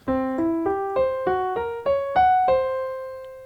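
Nine clean, plucked notes climb and settle in a steady rhythm, arpeggiating a root major triad then a tritone triad before one note rings out and fades.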